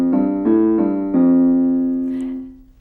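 Low piano notes sound alone, three quick strikes followed by a longer held note that rings out and fades over a couple of seconds.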